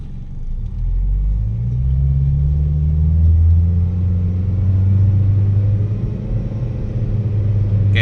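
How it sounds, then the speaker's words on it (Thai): A Mitsubishi New Cedia with a 4G18 engine, switched to petrol on a dual gas and petrol setup, pulls away with a loud, close engine drone that climbs in pitch, then holds a steady rumble. "อันนี้สับเป็นน้ำมันนะครับ ดูอัตราการเร่งนะครับ ออกตัว"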